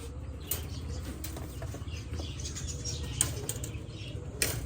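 A pigeon held in a hand beats its wings in repeated bursts of flapping, close and fairly loud, with sharper flurries now and then and no speech.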